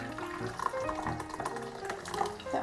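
Hot water poured into a bowl while steaming bao bun dough, a steady soft trickling stream, moderately quiet and without talk.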